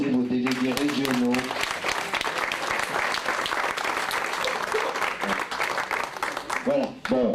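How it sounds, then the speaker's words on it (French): An assembly audience applauds its regional delegates, dense sustained clapping filling the room from start to finish, with a voice speaking briefly at the opening and again near the end. "applaudissez vos délégués régionaux"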